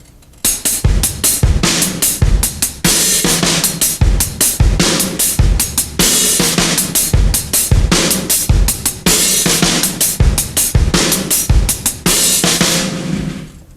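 A drum kit plays a slow linear metal groove with an open hi-hat on the quarter notes, plus steady kick and snare hits. It is loud and close, with no talking throughout.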